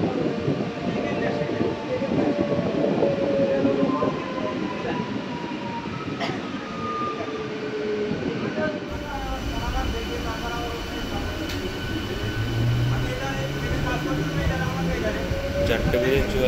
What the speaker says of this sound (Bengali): ট্রেন ঢুকলো নিউ ব্যারাকপুর স্টেশন।